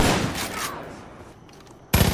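A gunshot in the video game Far Cry 5 opens with a loud blast, decays over a second into quiet, then another sharp crack bursts in right at the end.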